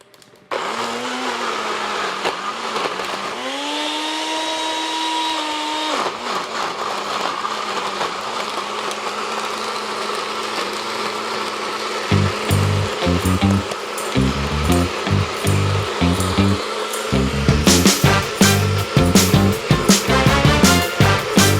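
A NutriBullet blender whirs loudly and steadily for about twenty seconds, its motor pitch rising early, then turning rougher with a rapid rattling churn in the second half.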